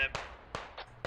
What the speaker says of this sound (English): that is going to absolutely obliterate all advance with that grenade launcher